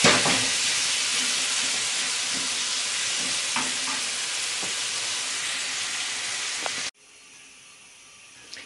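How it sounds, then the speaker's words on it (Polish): Pears fry in sugar in a pan with a loud, steady sizzle and a few light stirring knocks, before the hiss cuts off sharply near the end, leaving quiet. "I przesmażamy gruszki 5 minut."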